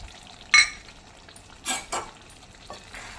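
Chicken curry with coconut powder stirred in a hot pan, a sharp clank of the spoon on the metal followed by brief sizzling swishes of stirring, close and fairly loud.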